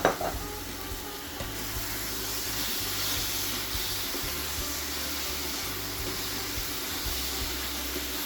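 Halved strawberries fry with sugar in a pan, giving a steady close-up sizzle and hiss after a brief knock at the start, with no voices.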